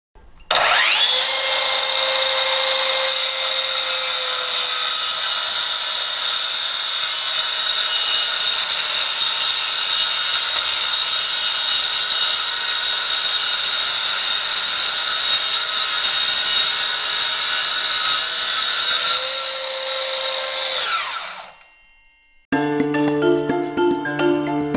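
A Metabo KT 18 LTX 66 BL cordless plunge saw whines steadily as it cuts through a wood panel for about twenty seconds, then spins down to a stop before a short different noise.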